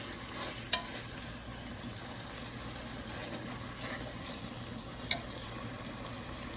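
Beef tikka frying in a karahi gives a low, steady sizzle and bubbling, with two sharp metallic clicks of a utensil against the pan.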